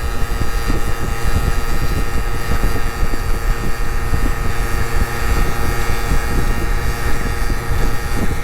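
A Genuine Buddy 50 scooter fitted with a Scooterworks sport exhaust and rejetted carburetor accelerates toward top speed, giving a loud, steady engine drone mixed with wind rush, close to the microphone and without any talking.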